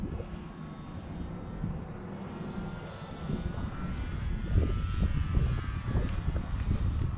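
An FMS Pitts 1400mm RC plane at half throttle: steady propeller engine drone throughout, rising slightly in loudness toward the end, with gusty wind rumble underneath.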